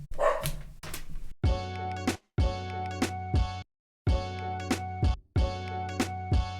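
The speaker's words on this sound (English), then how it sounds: "Dog's barking." A dog barks in a music production session, several loud, close barks in short spaced groups with harmonic, musical-sounding tails, alone without talk.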